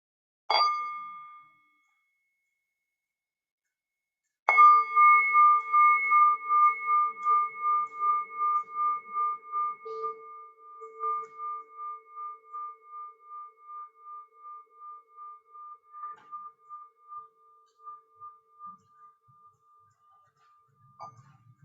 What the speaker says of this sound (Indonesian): Saya minta Liana bisa bantu saya mengundang suara genta